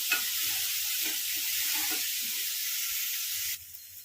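Ingredients with a pinch of salt sautéing in a pan for kuzhi paniyaram, a steady close sizzle with faint stirring scrapes underneath, ending in a sudden quieting.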